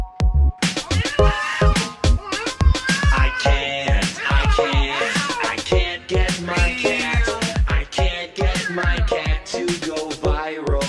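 A string of human voices mimicking cat meows, one after another, some drawn out and some short, with brief gaps between them.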